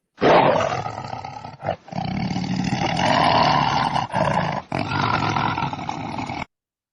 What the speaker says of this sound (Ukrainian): Звичайно, це гарчить тигр.